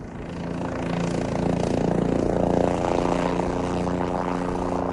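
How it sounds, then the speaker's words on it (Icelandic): A helicopter flies near a glacier, its rotor and engine producing a loud, steady whirring drone that swells slightly and holds close throughout. "Þyrlan notuð til að flytja leiðangursmenn fram og tilbaka"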